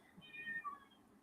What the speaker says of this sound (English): if you couldn't hear it, it meowed, telling me to drink water.